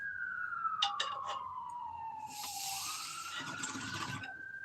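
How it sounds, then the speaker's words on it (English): A fire truck siren wails through the street, its pitch sweeping down and back up, with some nearby clatter and noise partway through. "It's actually a fucking fire truck."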